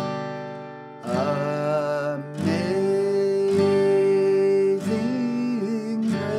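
Acoustic guitar strummed with single down strokes in slow 3/4 time for a beginner's Amazing Grace, each chord ringing out and sustaining between strums, four or five distinct strums heard up close with no voice.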